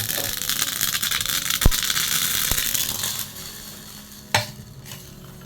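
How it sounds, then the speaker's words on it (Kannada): White mustard seeds sizzle and crackle in hot oil for tempering on a gas stove, a close, steady fizz broken by sharp pops as seeds burst and jump, fading toward the end with one final clink. "ನಮ್ಮ ಮನೆಯಲ್ಲಿ ಬ್ಲ್ಯಾಕ್ ಸಾಸಿವೆ ಖಾಲಿಯಾಗಿದೆ, ಹಾಗಾಗಿ ನಾನು ವೈಟ್ ಸಾಸಿವೆಯನ್ನು ಒಗ್ಗರಣೆಗೆ ಹಾಕ್ತಾ ಇದ್ದೇನೆ."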